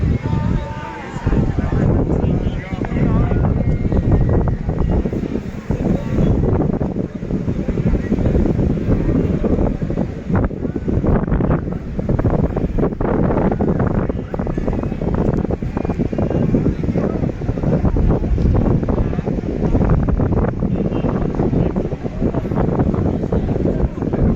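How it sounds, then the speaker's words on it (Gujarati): Strong storm wind roars continuously into the microphone at sea near moored fishing boats, a heavy buffeting rumble with a low engine-like drone beneath, loud throughout. "અત્યારે પવનની સ્પીડ વધતી જાય છે"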